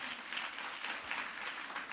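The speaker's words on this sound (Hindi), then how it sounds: "एक बार ताली बजाओ जोरदार।" A church congregation claps in a continuous, even burst of applause, moderately loud with no talk over it.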